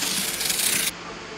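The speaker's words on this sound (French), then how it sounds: "percez le carton et y découpez une ouverture" A MARTOR SECUPRO 625 safety knife pierces and cuts through cardboard, giving a close scraping, rasping rip that stops abruptly partway, leaving faint room noise.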